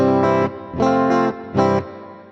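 A Donner DST-152S electric guitar on its middle and bridge pickups plays three loud distorted chords with chorus effect, each held briefly before the last rings out and fades, with no voices.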